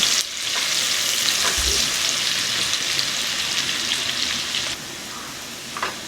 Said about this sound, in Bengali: আর দিয়ে দেবো 1 চা চামচ পাঁচফোড়ন আর কুচিয়ে রাখা পেঁয়াজটা দিয়ে দেব। খুব ভালো করে পেঁয়াজটা আমি ভেজে নেব।